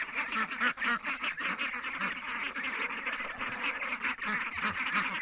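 Young ducks quack steadily as they waddle out on a farm, a dense chorus of overlapping calls close by with no pauses.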